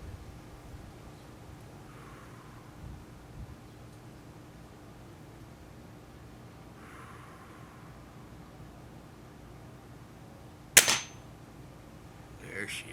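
A single sharp crack from an RWS Diana 34 air rifle fired at a paper target box, loud and close against quiet room tone, followed by a faint thud.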